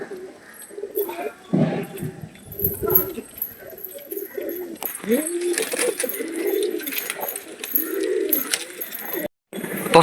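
Newly bought pigeons coo close by in repeated low, rolling phrases, with rustling and handling noises between the calls.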